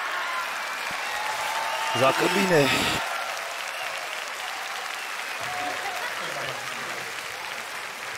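Audience applause rises in a Romanian comedy show, a burst of clapping that swells and then stops, with people talking over and around it.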